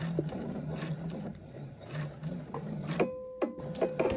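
A home sewing machine stitching a V-neck facing with the needle-down function set, giving a steady close mechanical whir for about three seconds, then a brief stop with faint clicks before it starts again.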